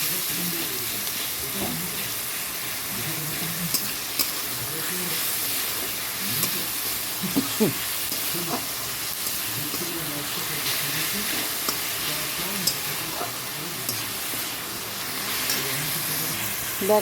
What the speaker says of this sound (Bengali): সব দিয়ে ভালো করে একটু কষিয়ে নিচ্ছি